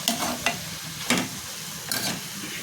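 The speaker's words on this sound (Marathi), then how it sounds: "ते छान परतून घ्यायचे आपल्याला" Cooked leafy greens are stirred in a pan, with soft sizzling and a few short spatula scrapes against the pan, close and fairly quiet.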